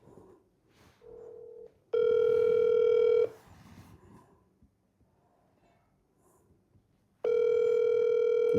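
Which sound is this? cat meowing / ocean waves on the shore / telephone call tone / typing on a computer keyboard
telephone call tone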